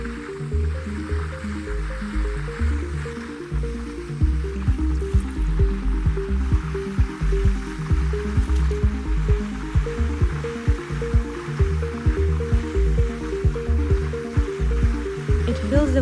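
Sea water slowly rises and fills around a sea anemone in a rock pool, a continuous soft wet gurgling and squishing with rhythmic pulsing, close and fairly quiet.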